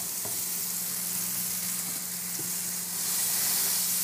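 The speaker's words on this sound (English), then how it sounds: "What I'm going to do is cut some lemons in half and then just chuck them in the pan" Halved lemons searing in a hot pan, a steady close sizzle and hiss running throughout with a couple of faint knocks, growing slightly louder toward the end, with no talking.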